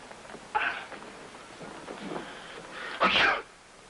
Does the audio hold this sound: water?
no